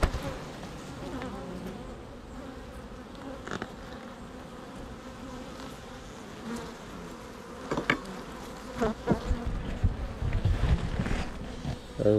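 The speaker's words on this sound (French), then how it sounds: "Vous voyez les cadres, donc il y a de l'abeille dessus" Loud, steady hum of many honey bees swarming over hive frames during a mid-July honey harvest, close to the microphone with wind buffeting and occasional knocks and handling bumps toward the end.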